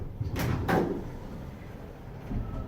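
Hotel elevator door at a Holiday Inn sliding open, a couple of short soft mechanical bumps early on followed by low hum of the cab, fairly quiet and close.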